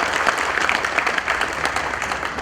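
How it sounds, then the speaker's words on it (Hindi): Audience applause welcoming a guest speaker at a CREDAI-MCHI Women's Wing and labour registration awareness program, a steady, dense patter of many hands clapping at moderate level, continuing evenly with no voices rising above it. "तालियों से प्लीज स्वागत किया जाए अजय आशर जी"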